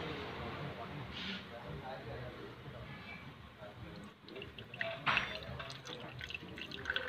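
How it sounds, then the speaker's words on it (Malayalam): Engine coolant poured slowly into the radiator of a Maruti Suzuki Wagon R, giving a steady liquid trickle and drip with a few brighter splashes, close by, under a continuous background hum. "അപ്പോൾ നമുക്ക് കൂളൻ്റ് ഫില്ല് ചെയ്യാം"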